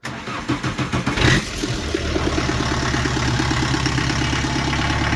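A TZ4K14 Czech mini tractor engine cranks with a rapid series of rhythmic pulses, catches after about a second, and settles into a steady, close, even idle with no talking.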